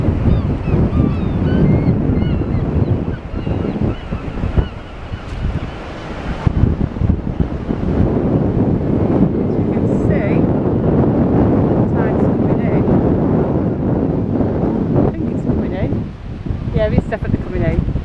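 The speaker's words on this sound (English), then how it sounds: "If I turn the camera around, which I am going to do, you'll hear the wind." Strong wind buffets the microphone on Blackpool beach beside the promenade, with the sea's waves surging underneath. The roar is loud, continuous and gusty.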